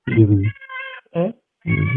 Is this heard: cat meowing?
yes